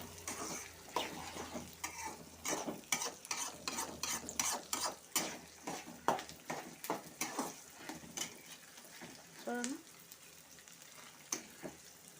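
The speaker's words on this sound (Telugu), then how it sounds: "పుట్నాలు పల్లీలు పచ్చిమిర్చి ఆయిల్లోని బాగా వేగాలి" Roasted gram, peanuts and green chillies fry in oil in a pan, a steady sizzle broken by many repeated scraping stirs, close and fairly loud throughout with no talking.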